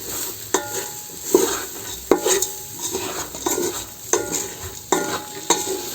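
Lentils are stirred into a spiced mixture in a pot on the heat. Repeated scraping stir strokes come close and fairly loud over a faint, steady sizzle, with occasional light clinks of utensil against pan and no one talking.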